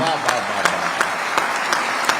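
Dense audience applause at a Holi poetry gathering fills the space, steady and fairly loud, with a few sharper claps standing out and faint voices underneath.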